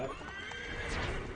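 A horse whinnies in the video game Assassin's Creed 3, a loud, close neigh that rises and falls over about a second, with faint hoof clip-clop and ambient game sound underneath.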